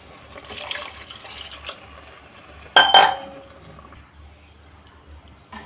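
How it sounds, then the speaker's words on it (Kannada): Measured water is poured from a drinking glass into a pot of rice for vegetable pulao: a soft trickle, then a brief clink and louder splashing pour near the middle, fading to quiet. "ಇದೇ ಲೋಟದಲ್ಲಿ ಆ ನೀರನ್ನ ಅಳತೆ ಮಾಡಿ ಹಾಕ್ಕೊಳ್ತಾ ಇದ್ದೀನಿ"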